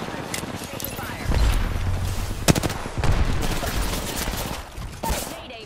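Gunfire crackles through a combat flight video game, with bursts of shots and heavy impacts rising over a steady engine roar, one sharp blast standing out, while a pilot's voice talks over the action.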